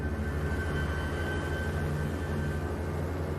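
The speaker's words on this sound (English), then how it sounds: "3 days after the Casablanca conference, American bombers attack Wilhelmshaven." American bombers on a wartime raid over Wilhelmshaven, a continuous deep droning roar of aircraft engines with a steady hum, heard at a moderate distance without any voices.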